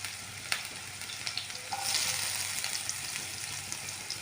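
Onions frying in a pan for egg dosa, a steady close hiss and sizzle with a sharp clink near the start and a brief tonal squeak midway, continuous without talk.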